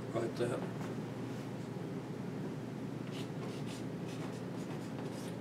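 Marker or pen writing on a board during a math lesson on the domain and range of a basic exponential function, steady scratchy strokes running throughout at a low, even level.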